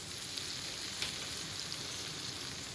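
Onion and garlic paste frying in a pan gives off a steady, even sizzle with faint crackles and pops, close and continuous with no talk.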